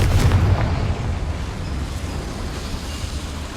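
A Confringo blasting spell in Hogwarts Legacy explodes in a goblin mine, a loud, deep booming blast at the start that settles into a long rumbling decay.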